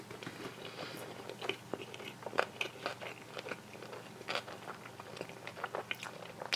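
Close, quiet crunching and chewing of sushi, with irregular crisp bites and wet mastication sounds spread through the clip and no talking.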